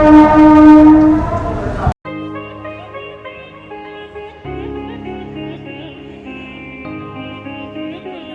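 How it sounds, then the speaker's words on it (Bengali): A loud train horn blares for about two seconds as a train pulls out of Howrah station, then cuts off abruptly into a steady tonal backdrop. "8:19 অর্থাৎ 4 মিনিট লেটে আমাদের ট্রেন হাওড়া স্টেশন ছেড়ে দিল"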